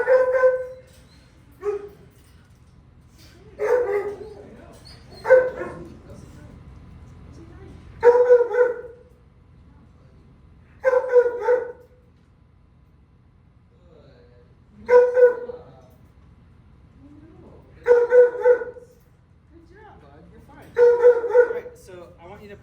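Dogs barking in short, loud bursts of several barks each, repeating about every three seconds with quiet gaps between, close by, with little else heard.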